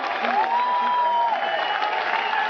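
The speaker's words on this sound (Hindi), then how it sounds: "ये तालियों की गड़गड़ाहट" At a corporate gathering, a crowd keeps up thunderous, continuous applause ahead of the CEO's entrance, a dense even roar of clapping with a voice briefly audible above it.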